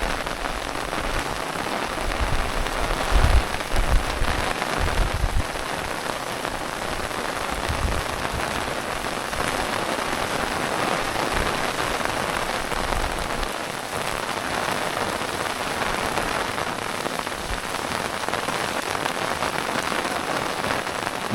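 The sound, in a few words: heavy rain falling on a mountain trail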